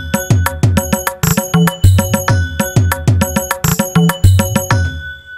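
Bell sound triggered on an Octapad electronic percussion pad, struck in a quick repeating rhythm of bright metallic rings, loud and close, with no talking.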